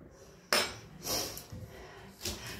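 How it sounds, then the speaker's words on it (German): A kitchen knife chops rhubarb into spoon-sized pieces on a board: a few distinct, fairly close cutting knocks, spaced irregularly, with no one talking over them. "ich schneide das aber meistens so, dass es, Moment, auf einen Löffel rauf passt"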